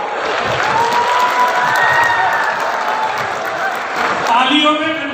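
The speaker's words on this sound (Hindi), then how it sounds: "एक बार जोरदार तालियां बजाएं" A large crowd at a Jat community gathering in Bhopal claps loudly. The applause is sustained and broad, with scattered cheers, and voices carry over it while a tone-like sound rises near the end.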